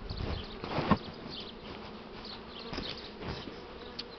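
Bees buzzing steadily at an open hive frame while young unmated Buckfast queens are introduced into a split colony, a continuous close insect hum with a few louder passes near the ear.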